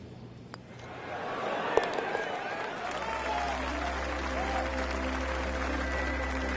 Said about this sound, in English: Oh, you got to applaud him there, though.